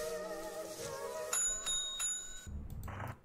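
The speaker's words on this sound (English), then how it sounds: "the ringing of the bell" A small bell rings several times with bright, sustained metallic tones that cut off abruptly, followed by a short rattling patch. It is moderately close and plays alone without speech.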